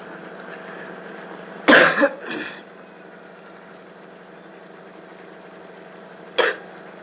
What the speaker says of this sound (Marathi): मला खोकलाही झालेला आहे जाम असा